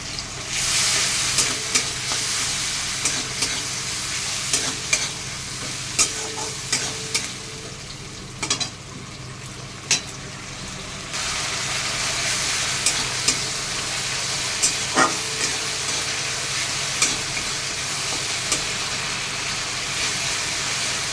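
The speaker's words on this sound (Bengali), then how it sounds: "এর মধ্যে 1 চামচি আমি আদা রসুন বাটা দিচ্ছি" Ginger-garlic paste fries in a pan with a steady sizzle for a Bengali Malabar spinach chorchori, as a spatula scrapes and stirs in repeated sharp clinks throughout, with no one talking.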